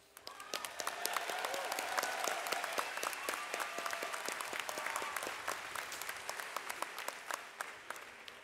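Graduates and guests at a Berkeley engineering graduate commencement in 2019 give one round of applause, with crisp, distinct claps forming a lively, sustained patter heard from a distance.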